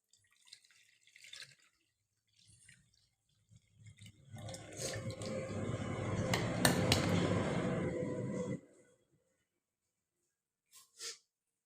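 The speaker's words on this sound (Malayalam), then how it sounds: "അപ്പോൾ നമുക്ക് പച്ചമാങ്ങ സംഭാരം ഒന്ന് അരിച്ചെടുക്കാം." Liquid splashing and trickling through a strainer with clinks of utensils as blended green mango buttermilk is strained, a few seconds of steady pouring amid soft kitchen clatter, no talking.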